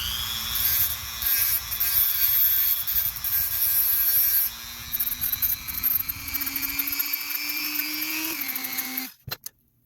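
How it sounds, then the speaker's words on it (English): Dremel rotary tool with a small grinding stone shaping the tip of a firearm component, a loud continuous high-pitched whine and grinding rasp that holds steady for about nine seconds, then cuts off abruptly. "really, really carefully, grind the tip of it into the shape that I want."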